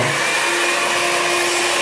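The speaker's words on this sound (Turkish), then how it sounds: "fönümü hemen başlatayım" A hair dryer blows continuously with a steady, loud whooshing hum and a high tonal whine, running without pause.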